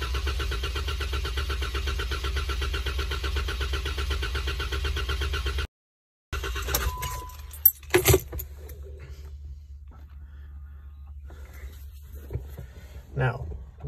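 A Jeep engine cranks steadily with the accelerator floored to clear a flood, a rhythmic drone lasting about six seconds before it cuts off. Scattered clicks and a quieter background follow.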